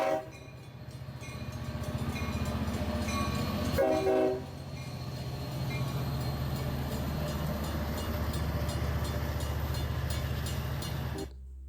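Long Island Rail Road diesel locomotive 404 runs on a Long Island branch line, its engine rumbling loud and steady with rail clatter and a brief horn-like blast partway through before the sound cuts off abruptly.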